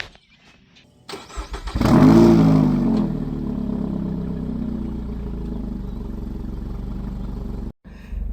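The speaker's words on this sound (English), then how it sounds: "what we'll do is we'll do a cold startup for you" A Toyota with an aftermarket exhaust is cold-started: a starter whirrs briefly, the engine catches with a loud flaring rev, then settles into a deep, steady, rumbling high idle close by.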